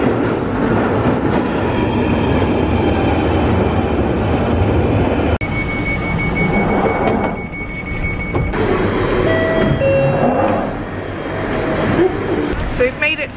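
A London Underground tube train rumbles along with loud, steady rail roar and rattling, while high whining tones and beeps rise over it and a person talks throughout.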